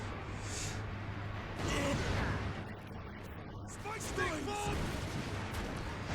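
Heavy gunfire and booming blasts in the video game Warhammer 40,000: Space Marine, with dense rumbling bursts and sharp electronic effects over a steady background hum.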